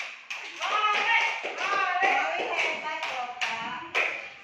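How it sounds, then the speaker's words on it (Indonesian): A class claps for Molly's group in a mathematics lesson, scattered hand claps and taps ringing out over a lively stretch of children's chatter and voices, steady and fairly close for several seconds. "Ya, tepuk tangan untuk kelompok Molly."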